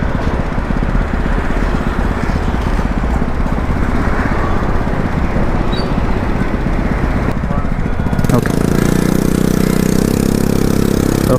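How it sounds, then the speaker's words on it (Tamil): A bike taxi motorcycle engine runs at a steady, loud drone, its pitch and loudness stepping up near the end as the engine note grows heavier. "இப்போ பார்த்தீங்கன்னா இந்த வண்டியில் சவுண்டு சேஞ்ச் ஆகிருக்கு"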